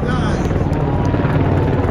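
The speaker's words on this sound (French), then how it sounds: "You hear the size of this helicopter" A CH-148 Cyclone military maritime helicopter roars close overhead at an air show, its deep rotor chop and turbine whine loud and steady over a short stretch.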